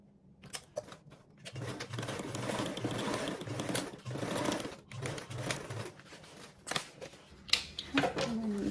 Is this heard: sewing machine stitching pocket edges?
yes